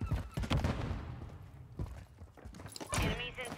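Grenade blasts and gunfire from a Modern Warfare 3 match come as heavy, rumbling bursts at the start, middle and end, with talking mixed in.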